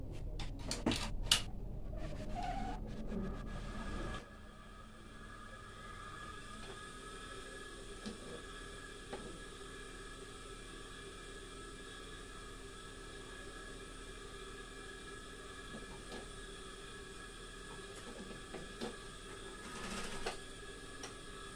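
A sewing machine stitches pinned fabric while working to avoid puckered seams, running as a steady, fairly quiet motor hum with a faint rhythmic whir for most of the stretch, after a few brief clicks and handling noises at the start.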